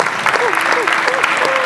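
An audience at an outdoor concert in Cesenatico claps loudly and steadily, dense applause with a voice speaking over it.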